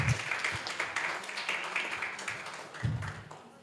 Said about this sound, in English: let's give applause to those very insightful speakers and